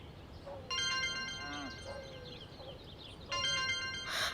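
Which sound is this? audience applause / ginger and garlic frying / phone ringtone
phone ringtone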